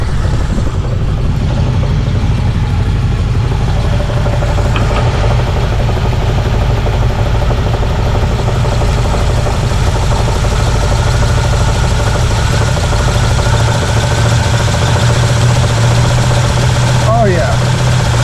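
A 1967 Chevy engine idles steadily with a deep, rough rumble during a carburetor adjustment, loud and close throughout, with someone talking over it.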